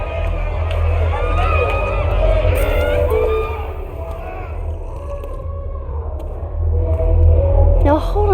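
Dense concert crowd noise around a mosh pit in a smoky, dark venue in front of a stage, from the game Life is Strange: Double Exposure, with a steady low rumble and babble of many voices throughout, loud and continuous.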